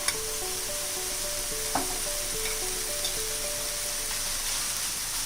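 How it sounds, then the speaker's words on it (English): Ginger garlic paste mixed with a little sugar and salt frying in a pan for an egg curry, with a loud continuous sizzle, a couple of light spoon clinks as it is stirred, and a steady tonal hum in the background. "Mix it well and fry for 2 minutes."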